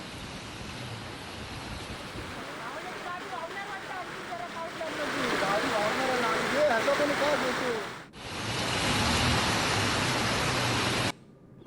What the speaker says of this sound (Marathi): आज दिवसभर ढगाळ वातावरण आणि मुसळधार पाऊस कोसळत होता।